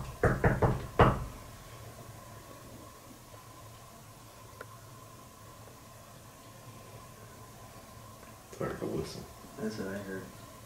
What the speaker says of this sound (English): It sounded like a little knock.